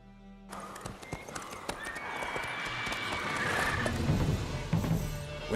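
The horse Roach clip-clops in The Witcher 3 video game, with a stream of hoof clatter that grows louder and busier over a few seconds.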